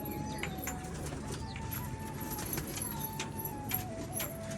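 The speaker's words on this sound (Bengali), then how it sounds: "তো এইবার কিন্তু চলে আসছে সেই ভাইরাল পায়রা দুটো" Pigeons coo softly and continuously at a home pigeon farm in Rajshahi with Lotan-type birds, under a steady background of faint jangling and ambient noise.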